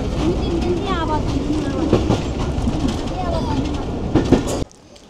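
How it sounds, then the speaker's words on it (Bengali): A Tungipara Express passenger train comes into Baharpur station, a steady loud rumble with clattering wheels and brief squeals and clanks. It cuts off abruptly near the end. "আমাদের ট্রেন বহরপুর স্টেশনে এসে দাঁড়ালো"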